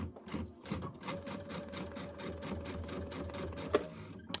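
A sewing machine stitches a Christmas quilt from top to bottom in one continuous, steady burst of fast, even needle strokes, close and clear.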